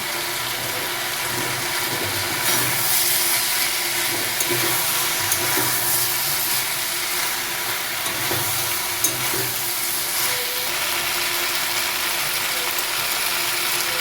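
Ginger and green chili paste sizzles steadily in a pan with frying mixed vegetables, a continuous close hiss with faint scraping and occasional clicks throughout.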